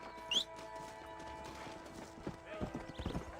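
Hooves of a horse galloping in Red Dead Redemption, a quick steady clip-clop rhythm close by, with a brief whinny early on and hoofbeats growing sharper toward the end, under faint game ambience.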